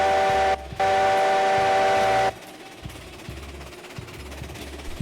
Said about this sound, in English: Nice sound of the whistle from the Heisler.